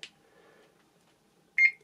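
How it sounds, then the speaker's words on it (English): A barcode scanner used to program a Sam4S ER-900 series cash register gives one short, clear electronic beep near the end, after a faint click and a quiet pause. "the last one will beep slightly differently to confirm that the program has been done"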